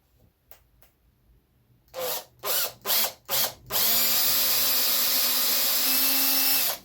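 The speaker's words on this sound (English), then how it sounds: "I'm starting with a drill bit smaller than 10mm to give me a guide before I use the final size." A power drill with a small bit bores a pilot hole in wood for a coffee table repair: several short trigger bursts, then a sustained steady whine running to the end.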